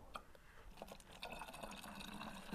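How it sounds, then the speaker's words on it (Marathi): Water is poured from a pot into a bottle outdoors on a farm, faint gurgling and trickling with small drips and splashes, quiet and close, with no talk. "चला आता ही बाटली भरून घेऊ आपण"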